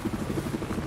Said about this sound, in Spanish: Vale, helicóptero aliado.